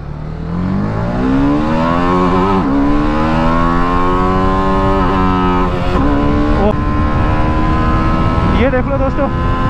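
TVS Apache RR310 motorcycle accelerating hard on a highway, a loud close engine whine climbing steadily in pitch through the gears with brief dips at each shift, continuous and alone.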